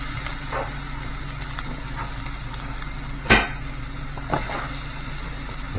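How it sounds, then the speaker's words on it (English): Slices of Gala apple sizzle and fry in hot oil in a pan, a steady close crackle with a couple of louder spits and a clatter partway through. "as our oil gets hot, we're going to put in some beautiful slices of Gala apple."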